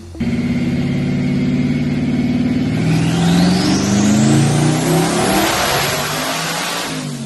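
Ram TRX fitted with a Hellion twin turbo kit on a dyno, its engine loud and close, pulling from a low rumble into a long climbing rev with a rising turbo whine before easing off.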